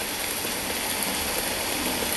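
Rain in the Free Fire video game falls as a steady, even hiss that stays close and unbroken throughout, with no voices over it.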